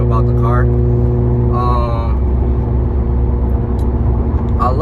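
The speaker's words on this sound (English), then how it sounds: "I love the sound of my exhaust." A supercharged car's exhaust drones with a steady, low, continuous tone from inside the cabin while people talk over it throughout.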